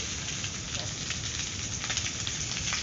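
Fish tail pieces fry in hot oil, a dense, steady crackling sizzle that carries evenly throughout, close and unbroken, with no talk.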